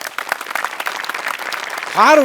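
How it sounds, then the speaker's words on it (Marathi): An audience claps steadily for two performers in a stage comedy show, a brisk patter of many hands filling the room, with a brief vocal whoop rising over it at the end. "तर सचिनसाठी आणि विनायकसाठी टाळ्या."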